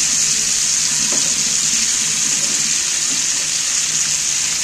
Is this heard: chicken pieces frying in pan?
yes